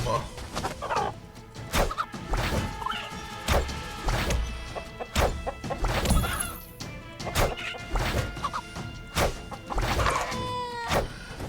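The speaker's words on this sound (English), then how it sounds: "Chickens that shoot fireworks." Chickens in the video game My Time at Sandrock cluck intermittently amid scattered game sound effects, crashes and pops.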